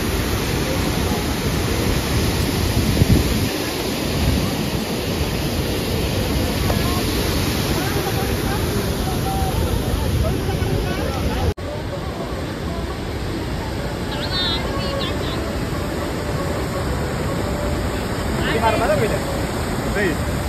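Gandha waterfall roaring steadily, a broad continuous rush of falling water heard nearby, with a brief break partway through before the same constant roar resumes.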